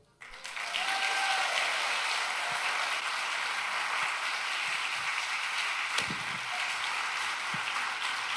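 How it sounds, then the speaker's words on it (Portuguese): A church congregation applauds during a parish priest's weekly reflection, steady dense clapping filling the room for several seconds after a brief quiet start, with faint voices and a sustained tone beneath. "Aplauda mesmo!"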